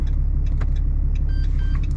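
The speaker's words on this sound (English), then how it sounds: "let's just try it with the engine started" A Dodge Ram truck engine idling steadily with a low, constant rumble, while faint clicks and a couple of short electronic tones sound over it.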